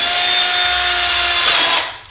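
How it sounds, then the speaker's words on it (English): A power drill whirs steadily at high speed for about two seconds, close and loud, drilling through an explosion-proof emergency LED light housing, then winds down as the motor stops. "Go ahead and put your drill about 3 threads back or so on the outside of the housing."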